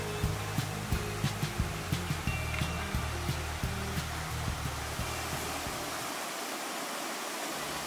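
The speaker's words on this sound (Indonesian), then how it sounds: "air terjun yang katanya ini jadi salah satu air terjun terindah di Mandailing Natal" The Sigala-Gala waterfall in Mandailing Natal pours with a steady, broad rushing roar, continuous and fairly loud, while clicks and low knocks sound close by through the first several seconds.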